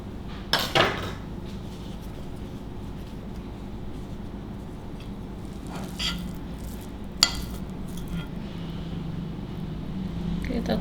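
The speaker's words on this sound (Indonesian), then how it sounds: "Sosisnya kita potong dulu" A knife slicing sausage in half during lumpia prep, heard as a few sharp clicks and taps of the blade against a board and dishes over steady kitchen background noise; no one speaks.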